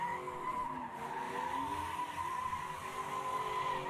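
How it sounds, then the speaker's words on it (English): A car's tires squeal and skid continuously as it spins a donut burnout in a small driveway, with the engine droning underneath, heard at a moderate distance. "I give him props for doing a donut in such a small area"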